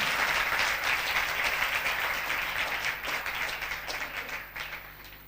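Loud, steady applause from a large church congregation during a sermon, dense clapping filling the whole stretch and tapering slightly near the end.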